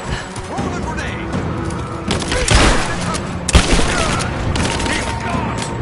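Grenade blasts and dense gunfire in the combat video game Rise of the Tomb Raider, a loud sustained battle with two sharp booming impacts standing out, while soldiers' voices shout beneath the din.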